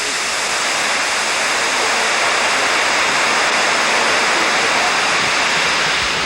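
Nearly 80-foot waterfall plunging into a valley in Ashtabula County, northern Ohio, heard as a loud, constant broadband roar of falling water with no voices.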